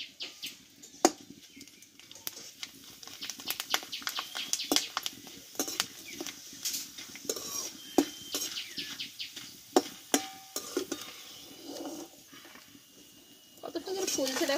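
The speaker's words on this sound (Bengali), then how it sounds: "অল্প অল্প করে দিয়ে আমি চিপসটা কিন্তু ভেজে নেব" Thin homemade potato chips fry a few at a time in a small amount of oil, giving a crackly, bubbling sizzle with sharp pops throughout. A person talks over it.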